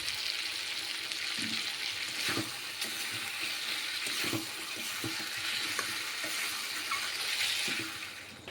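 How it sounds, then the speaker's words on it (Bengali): Ginger-garlic masala sizzling and frying in a pan for chicken biryani, with a steady soft hiss broken by occasional scrapes and taps of stirring, close and fairly quiet. "এখন আমি দিয়ে দেব আদা রসুন বাটা ধুয়ে রাখা জল, যাতে মশলাটা ভালোভাবে কষানো হয়।"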